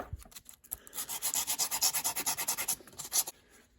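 A brush scrubs rust off a Shimano derailleur cage in quick, rhythmic back-and-forth rasping strokes, close and steady for a few seconds before pausing.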